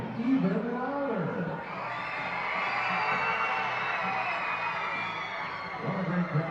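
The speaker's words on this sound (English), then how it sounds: "Scream even louder." A crowd at a baseball stadium screams and cheers in a sustained roar during Princess Night at an Evansville Otters game, with an announcer's voice heard briefly at the start and end.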